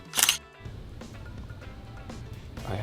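A camera shutter fires once, close up as a crisp, bright click, followed by quiet room tone with faint background sounds.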